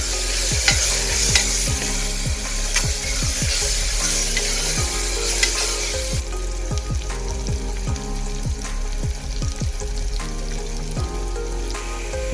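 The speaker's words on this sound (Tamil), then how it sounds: "இஞ்சி பூண்டு பேஸ்ட்டு பச்சை வாசம் போகிற அளவுக்கு நல்லா ஃப்ரை பண்ணி எடுத்து" Ginger garlic paste sizzles loudly in a hot pan while a spoon scrapes and stirs in quick repeated strokes, close and continuous.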